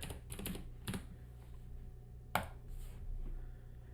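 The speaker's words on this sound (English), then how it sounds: "You can hear my loud clicky keyboard." Clicky keyboard typing in a few quick bursts of sharp keystrokes, close by, with one louder clack near the middle and short pauses between runs.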